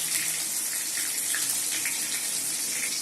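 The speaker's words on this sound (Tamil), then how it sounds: "இந்த கத்திரிக்காயும் உருளைக்கிழங்கையும் தண்ணியில் போட்டிருந்தோம் இல்லையா, அதை நல்லா அலசி எடுத்துட்டு" Tap water runs steadily into a sink while soaked eggplant and potatoes are rinsed for a Tamil dried-fish curry, a continuous close hiss and splash with no talk over it.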